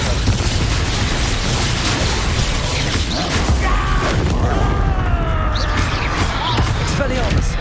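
Confringo, a fiery blast spell in Hogwarts Legacy, goes off in a loud, dense burst of booming and crackling effects amid steady combat clatter, with a voice casting spells over it.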